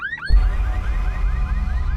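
After a brief cut-off chirp, a car alarm starts up again, cycling through a fast repeating warble, loud and close.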